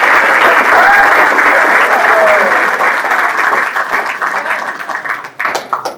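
Loud, full round of applause from the audience at a valediction ceremony for GST inspector trainees, steady at first, then thinning into scattered claps.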